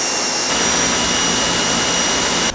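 An electric Ryobi 1800 psi, 1.2 gpm pressure washer runs with a loud, steady, broadband roar and high whine that holds unbroken throughout and cuts off at the very end.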